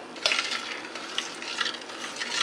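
Sausage gravy with milk simmers and bubbles in a pan, a steady soft crackle with a few light utensil clinks scraping the pan, close and moderately quiet, no talking.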